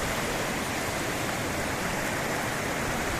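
Stream water rushing steadily downhill at Vadattupara waterfalls during a 2022 flash flood, a dense continuous roar of flowing water close by with no voices.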